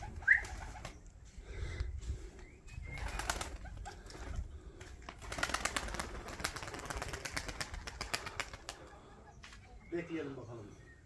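Pigeons in a Turkish loft coo and flutter nearby, with soft calls and bursts of wing-beating scattered through the clip, mixed with low ambient noise and some rustling.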